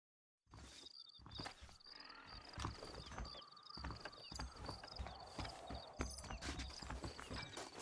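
Horse hooves clip-clopping in the Red Dead Redemption video game, set against a busy game soundscape with a steady high tone, thumps and other effects, moderately loud and continuous.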